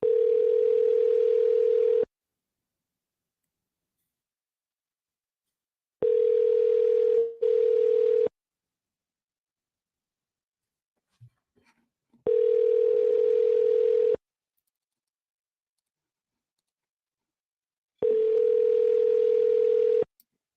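Phone call ringing out before going to voicemail: four evenly spaced ringback tones, each about two seconds long with roughly four seconds of silence between them, clear and steady with no talking.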